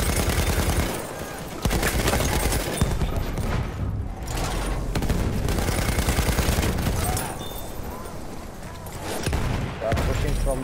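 Machine gun fire in the video game Battlefield 1 rattles in loud, dense bursts with brief pauses, mixed with other gunfire and game noise throughout.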